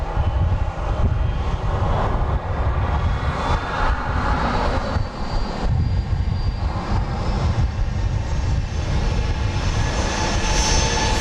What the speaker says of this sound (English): This is flight 1271. 737-700 off to Albuquerque, New Mexico.